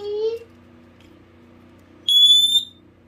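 Smoke alarms from a collection sound off at close range: one sharp high beep, a pause with faint background hum, then a second longer, louder shrill beep.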